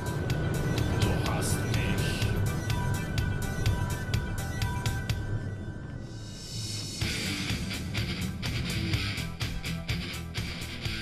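A supercar built with Formula 1 technology accelerates hard past 100 km/h, its engine a loud, steady roar that holds continuously, with a shift in tone partway through and speech running over it.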